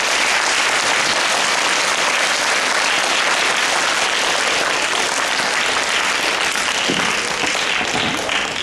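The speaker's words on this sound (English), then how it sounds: "One more applause." A live audience bursts into sustained, dense applause that stays loud and steady throughout, with many hands clapping together and no break.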